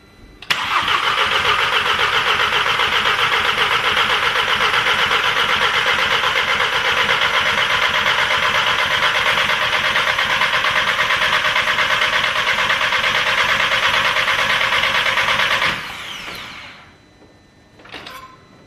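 A rebuilt Audi TT engine cranks and catches, then runs loud and close in a steady, even idle for about fifteen seconds before shutting off.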